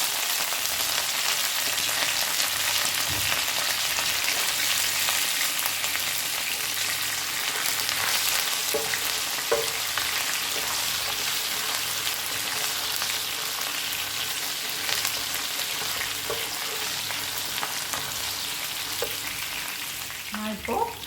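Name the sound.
green chillies and curry leaves frying in oil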